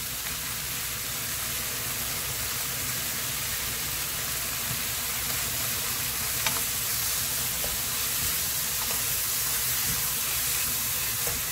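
Squid stir-frying with its seasoning sauce in a hot pan gives a loud, steady sizzle throughout, with a few faint scrapes and clicks over the dense hiss and no talking.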